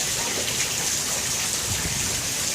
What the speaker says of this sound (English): Looks like the rain is calming down a little bit.